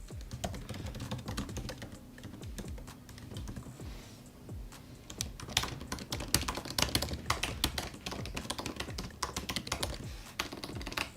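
Steady, rapid typing on a 16-inch Apple MacBook Pro keyboard, soft close clicks in continuous runs with a brief lull partway through.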